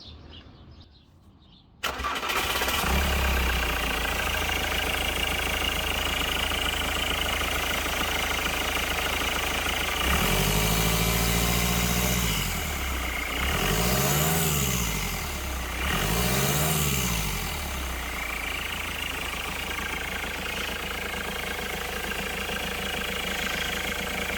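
A Ford Transit engine with its alternator disconnected cranks and catches, then idles steadily and close by, with a few rising and falling rev swings in the middle before settling back to idle.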